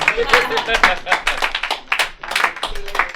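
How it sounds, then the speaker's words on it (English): An audience at a live comedy show claps in a brisk burst of applause that runs the full few seconds, with a voice speaking over the clapping. "Give him a round of applause!"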